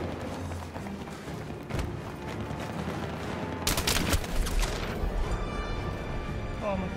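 Gunfire and explosions in the video game Battlefield 3, a dense noisy barrage with sharp crashing impacts and a loud burst of rapid shots midway, under continuous game noise.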